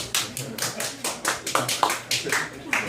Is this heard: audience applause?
yes